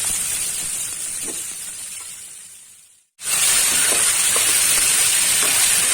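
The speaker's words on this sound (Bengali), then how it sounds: "তো এখন আমি ছেড়ে দিচ্ছি শাপলাগুলো" Water lilies dropped into hot mustard oil hiss and sizzle loudly and steadily; the frying noise fades, cuts out for a moment, then returns stronger and continues close up.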